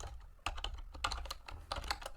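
Quick, irregular clicks of typing on a computer keyboard, close and fairly quiet, with short bursts of keystrokes and brief pauses.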